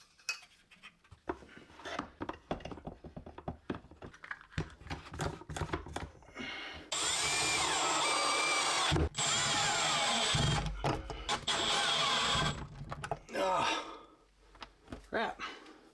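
A power drill drives screws into a closet organizer, preceded by handling clatter and knocks; two loud, close whirring bursts follow, each lasting a couple of seconds, with brief speech around them.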